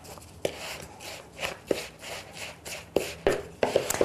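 Breadcrumbs are stirred into a thick chickpea and lentil pancake mixture, giving irregular soft knocks and scrapes of a utensil against the bowl, fairly close and with no voice.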